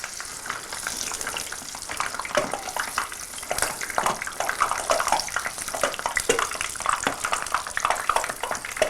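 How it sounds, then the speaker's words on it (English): Apple fritters frying in hot oil, a steady dense crackle and sizzle with bubbling spatter, fairly close and continuous with no voices. "our apple fritters are browning very nicely"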